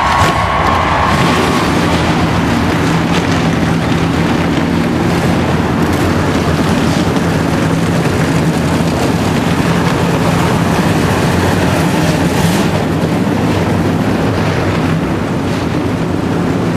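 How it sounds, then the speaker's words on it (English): Stock car engines fire up together at Richmond International Raceway for the 2002 Pontiac Excitement 400, a loud, dense, continuous roar that fills the space from start to finish with no audible voices. "Drivers, start your engines."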